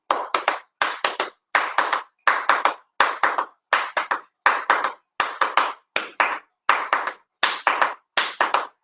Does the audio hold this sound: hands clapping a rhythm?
yes